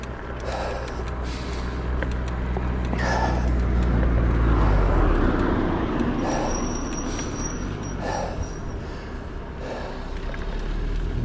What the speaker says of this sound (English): Another car coming, good grief.